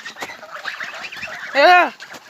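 Soft chattering calls lead into one loud, drawn-out honk from a flock of nineteen geese, right near the listener.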